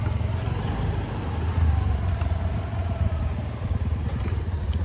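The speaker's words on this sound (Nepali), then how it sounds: "दिदीले डेन्जर कुदाइरहेको छ स्कुटर" A scooter speeds past on an open road, its mid-pitched engine buzz rising briefly over a steady, close engine rumble and road noise that fill the whole stretch.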